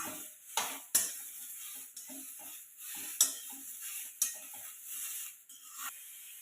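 Masala with two chopped tomatoes being roasted in a pan, a quiet soft sizzle under a series of sharp spoon scrapes and clinks against the metal.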